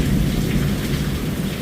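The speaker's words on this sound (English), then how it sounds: "Hear that thunder?" Heavy rainstorm with a low rumble of thunder beneath dense, steady rain pouring down on surfaces, loud and close, no voices.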